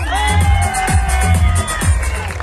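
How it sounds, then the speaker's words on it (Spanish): An outdoor crowd at a town culture festival coronation cheers and whoops for a rural district queen, loud and continuous over booming music with a deep rhythmic bass. "Aplausos por nuestra reina de la vereda, San Antonio."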